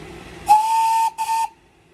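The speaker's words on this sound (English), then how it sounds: "Whistle works" Steam whistle on a club model locomotive during a boiler test, a clear high whistle in two short blasts with a small break between, close and loud.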